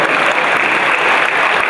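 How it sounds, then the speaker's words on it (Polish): Loud, dense applause from an audience at a speedway team presentation for KS ROW Rybnik, a continuous even clatter of many hands with no pauses. "Wielkie brawo."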